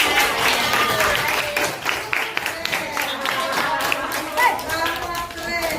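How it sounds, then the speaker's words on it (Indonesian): Students in a classroom clap together in a fairly steady burst of applause that carries through the whole stretch, with voices mixed in underneath. "Tepuk tangan buat keren"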